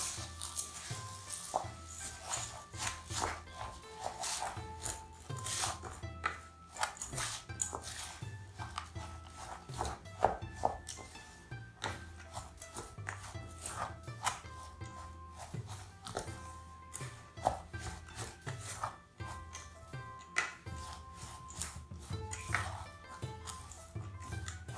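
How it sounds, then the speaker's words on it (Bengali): Puffed rice is stirred into hot melted jaggery in a pan off the heat, a spoon scraping and clattering in a busy, continuous rhythm of rustles and metallic knocks close up. "এখন আমরা চুলার জালটা অফ করে দিয়ে 2 কাপ মুড়ি এর ভিতর দিয়ে দিব, দিয়ে নাড়তে থাকবো।"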